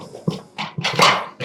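A dog barks several times in short, loud yaps spread across a few seconds near a cabin homestead during metal roof prep, heard close and clear with no talking.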